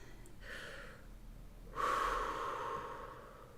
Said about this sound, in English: So, actually, I'm just going to take a breath.